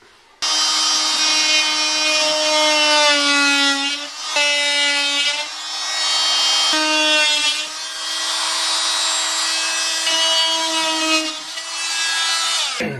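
A hand saw cuts sheetrock to make an opening for an electrical outlet box, loud and close, with steady rasping strokes in a rhythm of long pushes and brief pauses.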